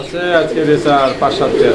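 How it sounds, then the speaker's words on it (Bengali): Racer pigeons coo in a steady, close run of soft throaty calls that continues through the short stretch, with overlapping voices. "আজকের আমাদের প্রথম পেয়ারেই কিন্তু থাকছে রেসার কবুতর"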